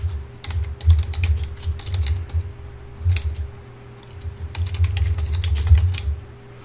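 Irregular bursts of typing on a computer keyboard, quick clustered keystrokes with short pauses, close and clear over a low steady hum.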